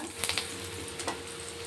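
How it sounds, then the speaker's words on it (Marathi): Curry leaves crackle and spit in hot oil while poha chivda is being made, a close, steady sizzle with a few sharp pops near the start and another burst a little later. "कढीपत्ता फ्राय करून घ्यायचा"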